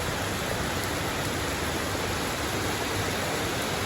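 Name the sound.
heavy rain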